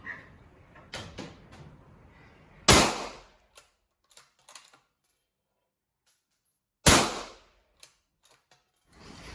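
A rifle fitted with an A-TEC H2 moderator using a single module fires two sharp shots several seconds apart, each with a quick echoing tail. Faint handling clicks and rustles sound between them.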